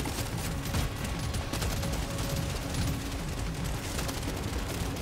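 Steady gunfire from the Engineer's weapon in Deep Rock Galactic: Survivor, a continuous rattling stream of shots mixed with distant booms and game effects, fairly even in loudness throughout.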